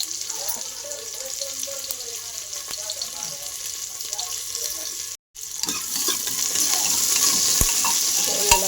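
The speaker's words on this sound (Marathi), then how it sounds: "हे बघा तेल घेतले टाकून, त्यात कांदा घेणार टाकून." Onion and peanuts frying in oil for a spinach palak bhaji, a steady bright sizzle with scattered stirring clatter and a brief dropout midway, close and continuous, loudest toward the end.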